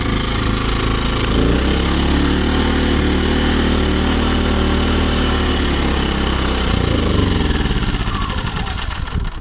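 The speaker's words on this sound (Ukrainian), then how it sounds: "Так, як чуємо, як працює генератор і також мене чути." A small Vitals inverter generator runs steadily and continuously, a loud even drone with a low mechanical hum throughout, briefly changing pitch near the end.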